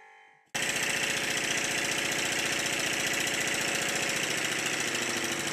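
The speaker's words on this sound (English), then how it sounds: "you're listening to the sound of the compressor pumping back up to pressure" A loud, steady mechanical chugging starts abruptly after a brief quiet moment, an air compressor pumping hard and continuously back up to pressure in a workshop running a Stuart triple model steam engine.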